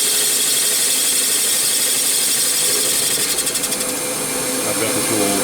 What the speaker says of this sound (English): Now when the tool reaches the bottom of the bore, it's actually going to stop and index.